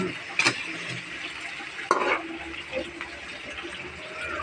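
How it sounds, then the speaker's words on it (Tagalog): Mung bean adobo (adobong balatong) is stirred in a pot over a soft, steady cooking sizzle, with two sharp scraping strokes of the spoon standing out against the simmer. "I-mix-mix rin po natin. Atin pong haluin ulit."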